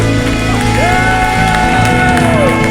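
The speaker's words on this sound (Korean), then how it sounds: "큰 감사의 박수, 영광의 박수, 큰 함성으로 하나님 높이 올려드리겠습니다" A church congregation cheers and shouts loudly, a dense, continuous roar of many voices with whoops rising over it, near and sustained throughout.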